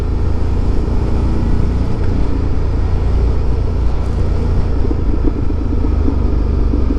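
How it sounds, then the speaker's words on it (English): A Ducati Multistrada 1260S motorcycle being ridden on the road gives a steady, loud engine rumble with wind noise, constant and unbroken throughout. "it is just brilliant to be back out on the bike, having a little bit of a fun ride"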